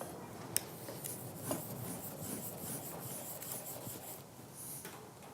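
A cabinet scraper being sharpened gives faint, close rasping strokes that repeat unevenly, with one sharp tick near the start and a soft scraping texture throughout.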